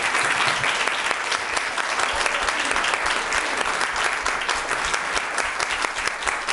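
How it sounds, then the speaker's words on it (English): Sustained loud applause from a crowd at an educational advisory board meeting, steady clapping filling the whole stretch without pause. "that lady needs one heck of a round of applause"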